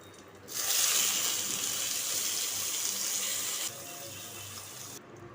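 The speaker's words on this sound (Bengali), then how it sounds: "পটলগুলোকে ভেজে তুলে নেব" A steady, loud sizzle of pointed gourd coated in salt and turmeric frying in hot oil, a bright crackling hiss that swells in after a brief pause and cuts off near the end.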